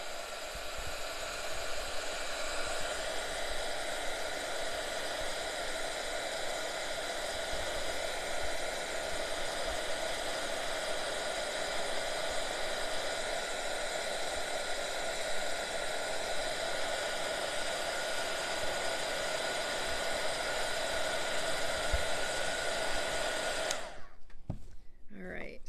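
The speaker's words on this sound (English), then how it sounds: "Heat tool. So this is going to make a lot of noise" A craft heat tool blows hot air in a steady, loud, continuous whoosh with a constant whine, running alone without talk for about 24 seconds before cutting off near the end.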